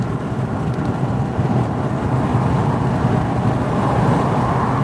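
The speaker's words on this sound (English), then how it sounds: "Look at the traffic on the other side of the road." Heavy beach-bound road traffic near Tampa streams past in a continuous, loud roadway rumble with no clear breaks between vehicles.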